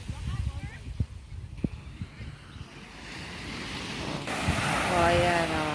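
Ocean waves wash onto the shore of Shek O Beach, a steady wind-blown surf that grows louder toward the end, with a few faint knocks early on and no talking over it.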